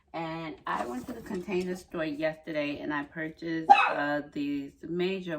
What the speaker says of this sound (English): why are you barking? I'm sorry, that's my dog.